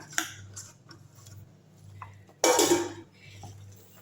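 Scraping and clinking of a utensil against a bowl while mixing lentil fritter batter with chopped onion, with a louder burst of stirring midway, close and alone.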